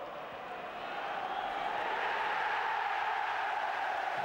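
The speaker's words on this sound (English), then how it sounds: "the home crowd at Bramall Lane celebrate a winning start" Home football crowd at Bramall Lane celebrating a winning start after an early goal: a dense, steady roar of many voices, loud and sustained with no break.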